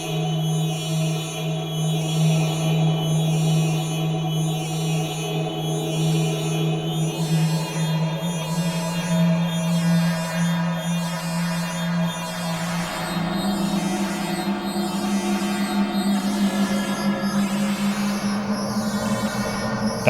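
A sustained FM synth drone run through an arena reverb, with a low droning pitch, shifting modulated upper tones and a broad echoing wash, shifting pitch partway through, continuous and alone.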